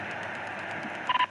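Three quick telephone dialing tones beep near the end, close and clear, after a stretch of faint steady radio-like hiss.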